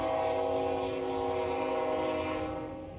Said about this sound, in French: Pardonnez-moi, Marianne, c'est un passage très fréquenté ici, justement, les trains comme ça, là, les convois de marchandises à proximité de Coteau-du-Lac où on est.